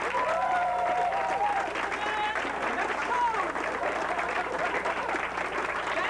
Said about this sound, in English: Can we all give him a round of applause?